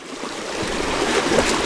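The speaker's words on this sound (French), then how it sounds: "Là on arrive vraiment sur une topologie de rivière de montagne" Water rushes steadily through a small mountain stream in Ariège, trout country, a continuous broadband wash with no break.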